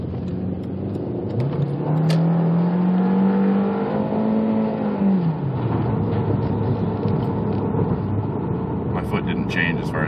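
A 2003 Volkswagen Jetta 1.8T engine revs up with a rising, steady pitch to about 6,500 RPM, holding high before dropping off, loud and close, with faint voices underneath.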